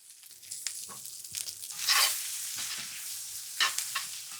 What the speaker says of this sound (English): Get a hard sear on those mushrooms